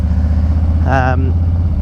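Harley-Davidson Softail Street Bob FXBB rumbling steadily underneath during a ride, loud and close, with a voice talking briefly over the engine.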